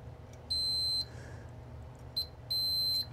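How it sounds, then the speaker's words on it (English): A multimeter on diode-test setting gives two sustained, shrill electronic beeps, each about half a second long, close and clear over faint background hum, with a brief blip just before the second. "which makes a beep on this meter."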